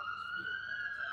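Police car siren wailing on a San Francisco street, a steady rising tone with harmonics that holds throughout at moderate distance, loud and continuous.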